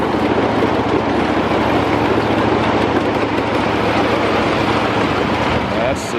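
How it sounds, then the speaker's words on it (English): A live steam miniature train passes close by on a hillside ridgeline track, a continuous broadband rolling rumble and hiss that holds steady and loud for several seconds before easing off. "And we got a train coming up right to my right."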